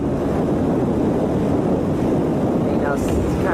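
Strong night wind blowing steadily across an open outdoor spot in Spain, a loud continuous roar with gusty rumble buffeting the microphone from start to finish.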